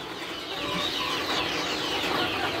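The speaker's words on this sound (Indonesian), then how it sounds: "saya memelihara sebanyak 30 paket ayam sentul" Sentul chickens, a flock of hens and roosters kept on a farm, clucking steadily over a constant dense background of noise with no single call standing out.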